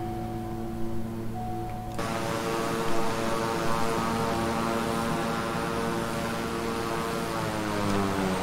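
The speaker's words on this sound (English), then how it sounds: "Shut the engines off." The twin turboprop engines of a King Air 350i in Microsoft Flight Simulator drone steadily. The tone shifts and grows fuller after about two seconds, then holds loud and continuous with no talk.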